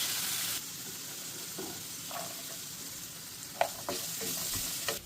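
Grated carrots and raisins sizzle in ghee in a pan over a low flame while making Afghani Kabuli biryani, a steady close frying hiss broken by a few light scraping stirs.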